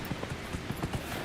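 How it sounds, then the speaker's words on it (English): Horse hooves clip-clopping in Dragon Age Inquisition as the mount runs, a steady quick rhythm of muffled thuds under a dense background rumble. "Ride the horse."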